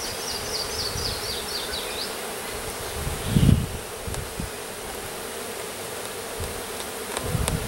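Continuous buzzing of many bees around a hive outdoors, with one bee swooping close and loud midway and faint high chirps early on.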